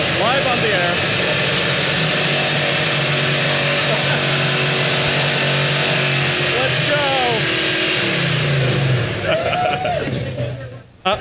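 A 428 car's engine roars close by at the Pikes Peak Hill Climb Fan Fest, rumbling loudly and revving repeatedly for over ten seconds before dropping off sharply, while people talk beneath the noise.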